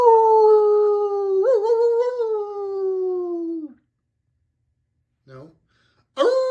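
A dog named Reno gives a long, loud, wavering howl lasting several seconds that slowly drops in pitch, then after a pause lets out a short yelp and begins another howl.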